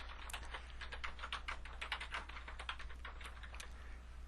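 Quick, uneven clatter of fingers typing on a computer keyboard, a steady run of light key taps close by and fairly quiet, with no talking.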